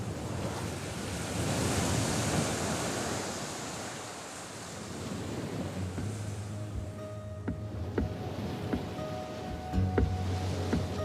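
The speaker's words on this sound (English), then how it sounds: "Lapped by the waves of the Atlantic Ocean, it is the last land before Brazil." Atlantic Ocean waves wash and lap steadily against the shore of the last island before Brazil, in the southern Bissagos archipelago of West Africa. A broad, continuous surf roar is mixed with wind, and a low rumble enters partway through.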